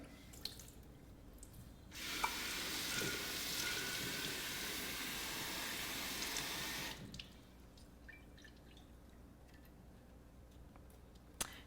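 Soaked sprouting seeds are rinsed under a tap, a steady rush of running water lasting about five seconds between quiet stretches with faint drips and ticks.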